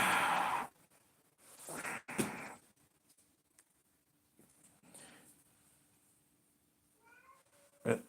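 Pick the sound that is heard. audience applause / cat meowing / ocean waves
cat meowing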